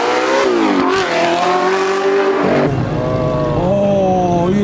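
A Porsche GT3 accelerating hard, its loud engine note climbing sharply through the revs, dropping briefly at a gear change, then rising again close by.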